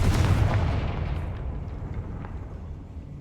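Confringo fire spell blast in Hogwarts Legacy, a loud booming explosion with a rumbling tail that slowly fades over a few seconds, heard alone.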